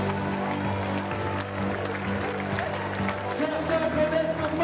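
Spectators at the start of a 100-mile ultra trail race clap and cheer faintly in the background, a soft steady patter mixed with crowd murmur and sustained tonal sounds.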